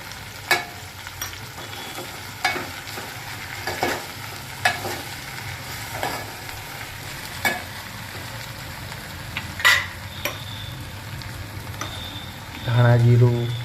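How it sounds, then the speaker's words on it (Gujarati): Okra frying and being stirred in a pan, a steady close sizzle broken by periodic scraping strokes of the spoon, with a low hum underneath and a brief voice near the end. "આપણે આ ભીંડાને પકવવાનો છે।"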